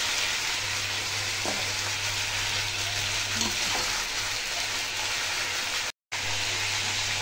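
Yardlong beans fry in a pan with potato, giving a steady, dense sizzle with a couple of faint stirring knocks and a brief dropout near the end.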